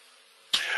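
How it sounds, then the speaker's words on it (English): One sharp cough bursts out about halfway through, close and fairly loud, after a short stretch of faint room hush. "So you're not worrying about the cough either?"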